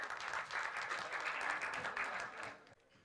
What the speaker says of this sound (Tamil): உங்களுடைய பலத்த கரகோஷங்களுடன் ஜாக்வார் தங்கம் அவர்களை பேசுமாறு அழைக்கிறோம்.